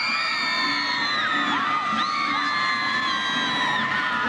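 A large stadium crowd roars and whistles during the 1999 Women's World Cup match between Nigeria and the USA, a dense continuous cheer with shrill whoops rising and falling throughout.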